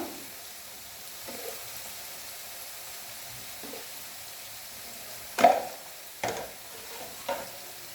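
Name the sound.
stirring chili pickle with turmeric sizzling in pan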